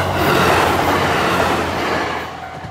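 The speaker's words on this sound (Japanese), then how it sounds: "札幌車だー。やっと来たー。" A JR Hokkaido local train with Sapporo-based cars pulls into a station. A loud, continuous rumble of wheels and carriages passes close by and fades slightly toward the end, with no voices.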